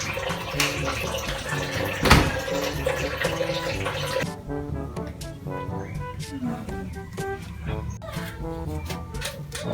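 Water poured over someone bathing, with a splashing rush in the first few seconds and a sharp splash around the two-second mark, then quieter dripping under voices and background sound.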